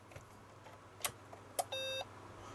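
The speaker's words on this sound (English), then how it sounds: "which is the relay, and then the beep of the speaker" Startup of an Acorn Electron home computer: a couple of faint sharp clicks, then a single short steady beep from its internal speaker lasting about a quarter second, quiet and isolated.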